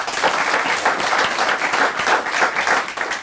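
Dense, steady applause from a studio audience during a Kenyan talk-show interview with Sabina Chege, filling the whole stretch at close range with no one speaking over it.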